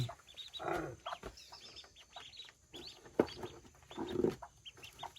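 Hen clucking close by in a farmyard, a scatter of short soft clucks and low calls in irregular bursts over a faint background.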